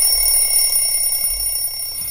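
An alarm clock rings continuously and fairly loudly on its own, a steady electronic tone with bright high-pitched harmonics, no speech over it.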